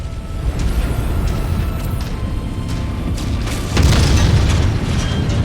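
A deep, rumbling explosion of a mech being destroyed in the video game Mechwarrior 5: Mercenaries, over a constant low combat din, with a heavier boom swelling near the end.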